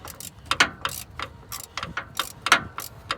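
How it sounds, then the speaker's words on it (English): A ratchet clicking in short bursts while tightening a starter bolt on a Ford, with irregular crisp ticks close by and no talk. "it's hard to get clicks on my ratchet unless I hold the socket"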